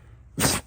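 A single short, sharp sneeze bursts out abruptly after a quiet moment, close and loud.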